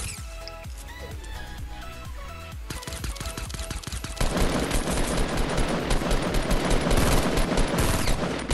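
Fortnite gunfire, starting as scattered shots over faint game music and then breaking into a loud, sustained stream of rapid automatic fire that runs to the end, with no talk.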